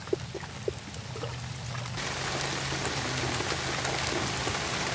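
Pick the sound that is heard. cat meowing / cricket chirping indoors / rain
rain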